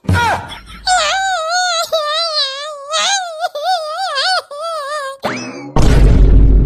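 A cartoon child wails loudly and at length in a wavering, sobbing cry, with a few breaks between the bursts, and ends in a noisy crash.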